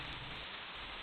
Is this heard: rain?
yes